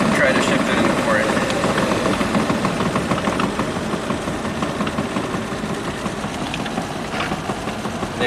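A 1967 Triumph GT6 engine runs steadily with a close, busy mechanical rattle while the gearbox is eased into fourth. The sound stays at an even, fairly loud level throughout, with no talking.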